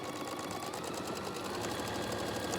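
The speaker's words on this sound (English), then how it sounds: "I have a fancy sewing machine, so it does it for me." A home sewing machine running steadily while stitching a reusable fabric face mask, a continuous fast mechanical whir close up with no pauses.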